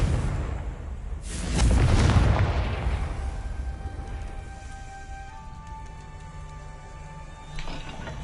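A Confringo fire spell in Hogwarts Legacy bursts in a loud, rumbling explosion that swells for a second or two, then decays into a lingering magical hum and tones, with a faint second impact near the end.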